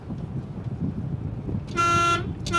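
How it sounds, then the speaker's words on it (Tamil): Over a rumbling engine and traffic on a narrow street, an auto-rickshaw horn honks once for about half a second, then gives a second short toot. "ஹார்ன் அடித்து ஆட்டோ வருதா"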